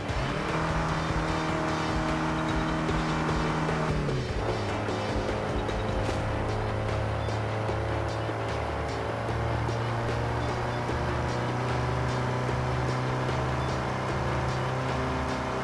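A car in a racing video game revs loudly, then drops to a lower, steady engine note after a gear change around the middle and keeps droning at high revs, with faint talk underneath.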